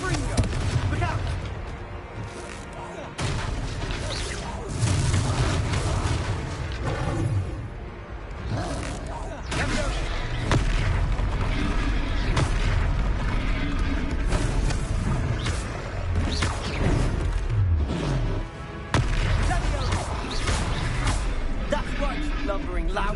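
Confringo fire spells burst as explosions in a Hogwarts Legacy battle, with repeated booming blasts and crackling impacts over a dense, loud game mix, while characters shout and talk throughout.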